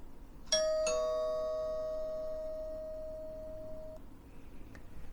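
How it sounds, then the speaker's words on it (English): A doorbell chime played through Home Assistant gives two clear ding-dong tones that ring out and decay slowly, followed by a faint short beep near the end. "Here's a doorbell."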